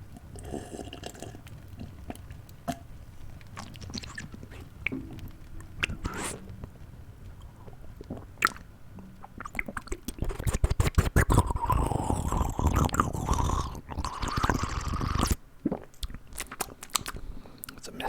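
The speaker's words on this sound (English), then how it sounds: "that was a messy water sip." A messy, noisy water sip recorded close for cozy holiday ASMR: wet slurps, clicks and crunchy mouth sounds, sparse at first, then a denser, louder burst of sipping before trailing off.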